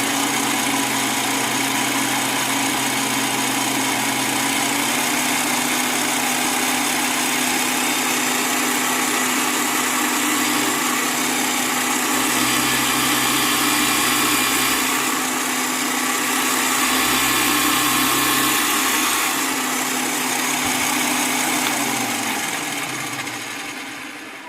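A Parkside Scheppach DP60 electronic bench drill runs with a continuous loud whine and hum. The pitch shifts a few times as the motor load changes, and no voices are heard.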